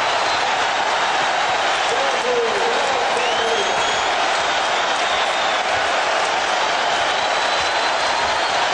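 Basketball arena crowd roaring and applauding after a Michael Jordan dunk for the Bulls, a loud, dense, continuous wash of cheering that holds steady throughout, with faint commentary buried underneath.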